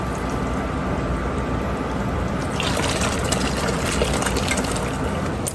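Homemade turkey broth is strained to remove the solid pieces, giving a steady liquid pouring and trickling sound that grows fuller and splashier partway through, with no voices.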